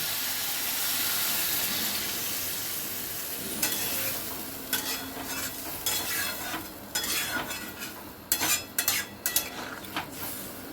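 A drumstick and potato curry sizzles in a pan, then water is poured in and stirred, bringing a burst of hissing followed by clattering spoon strikes and scraping against the pan.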